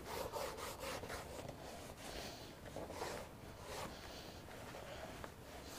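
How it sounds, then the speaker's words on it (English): Repeated rubbing strokes of a beeswax-loaded rag burnishing the edges of leather tapaderos, a steady close friction sound with rhythmic swishes and no talk. "I'm going to grab my burnish rag that's got a little bit of beeswax on it. I'm going to hurry and burnish up these edges"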